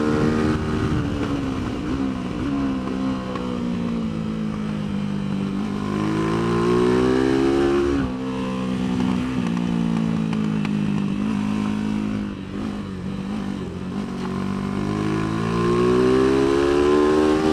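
A Tianda TDR300 motorcycle laps Mission Raceway, its engine loud and close, rising and falling in pitch as it accelerates, brakes and shifts gears, with rear-wheel chatter on downshifts and no voices.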